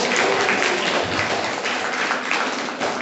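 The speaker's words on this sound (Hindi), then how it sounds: "जोरदार तालियां।" Dense audience applause at a National Voter Day event in 2021, a brief, loud, even burst of many hands clapping together with no voices over it.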